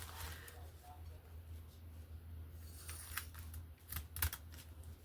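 Scissors or a rotary cutter slice straight through fabric in a quilting session, a series of faint crisp snips and scraping cuts growing sharper toward the end over a steady low hum and quiet room noise.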